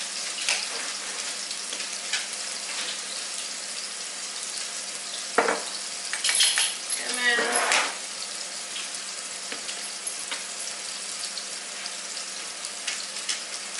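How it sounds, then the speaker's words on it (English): Onions sauté in a pan with a little olive oil, giving a steady soft sizzle, with a brief louder rustle and clatter partway through, no one talking. "the onions are sauteing in the pan with a little bit of olive oil"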